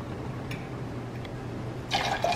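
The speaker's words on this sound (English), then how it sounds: "take a nice 1 ounce pour of your triple sec" Triple sec being poured for a margarita, a soft liquid trickle into a glass beneath a low room hum, brightening near the end as the pour splashes more clearly.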